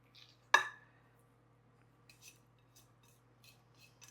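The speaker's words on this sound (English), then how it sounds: "we're going to go ahead and spoon in the dough right into our casserole dish" A spoon scrapes and clinks against a casserole dish with one sharp, close metallic knock near the start, then a few faint, scattered taps and soft scrapes as dough for a hearty Southern cattle drive casserole is spooned in.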